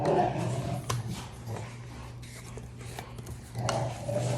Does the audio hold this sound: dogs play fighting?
yes